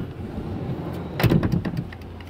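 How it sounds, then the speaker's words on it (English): A sliding rear door on a Ford Grand C-Max Zetec 1.6 TDCi people carrier is worked once: a quiet interior hum, then a short burst of rolling and latching clunks near the middle, fading to calm. "Again, I'll show you how to use the sliding door."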